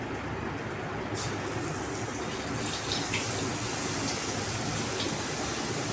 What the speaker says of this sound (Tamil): இப்போ எண்ணெய் நல்லா காஞ்சிருச்சு நம்ம கொஞ்சமாக எடுத்து மாவு ஊற்றிக்கலாம்